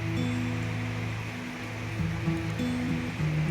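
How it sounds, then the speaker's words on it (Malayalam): Cinnamon, cloves and cardamom fry in hot oil for a Kerala-style mutton curry, producing a steady close sizzling hiss as they are stirred, with faint tonal sounds running underneath. "എണ്ണ ചൂടാകുമ്പോൾ അതിൽ 2 പട്ട, 2 ഗ്രാമ്പു, 2 ഏലക്കായ ഇട്ട് കൊടുത്ത് നന്നായി ഇളക്കി കൊടുക്കണം"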